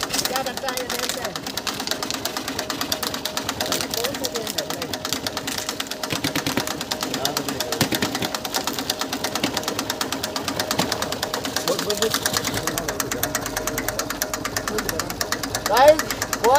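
A tractor engine runs steadily near a hot silencer outdoors, a continuous rhythmic chugging idle with vibration throughout, with a person talking over it.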